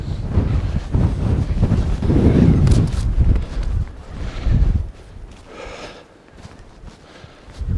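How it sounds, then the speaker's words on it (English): Strong gusty wind buffets the microphone outdoors near old limestone kilns, a loud continuous roar that swells and eases before dropping to a calmer hush. "Bit of respite from that wind."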